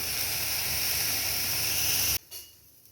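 Broccoli frying in a pan over a medium flame while being tossed: a loud, steady sizzle and hiss close by that cuts off abruptly after about two seconds, followed by a brief faint rustle.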